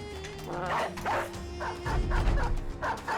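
Dogs barking in the video game Battle Brothers Reforged, several quick yips and barks in short bursts over a steady low game hum, fairly quiet and without talk.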